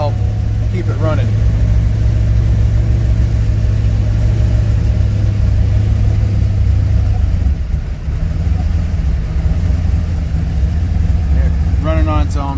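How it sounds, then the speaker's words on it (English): A Corvette C5 Z06 with a 445ci LS7 V8 on 91 octane fuel runs loud and steady in a cold idle, the deep engine drone swelling briefly under light throttle before settling back. "giving it a little throttle to help keep it running"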